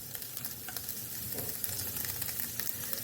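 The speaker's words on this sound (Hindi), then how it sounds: "यहाँ पे मैं चिकन को अच्छे से भून लूँगी 1-2 मिनट तक के लिए" About 250 grams of boiled, shredded chicken fries in a pan for a pizza topping, a steady close sizzle with soft stirring sounds and no speech.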